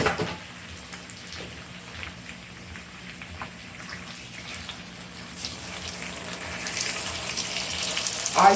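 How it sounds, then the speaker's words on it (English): One cup of water poured into a pan of sizzling Jamaican-style pork adobo, giving a steady hiss and bubbling sizzle that swells toward the end, with no talk over it. "I'm going to add 1 cup of water."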